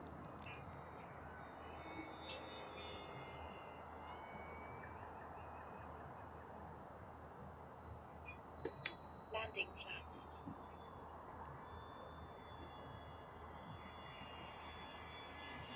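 A small Durafly Tundra RC plane drones faintly in the distance as it cruises low and slow, a thin steady engine whine with a few brief louder blips midway.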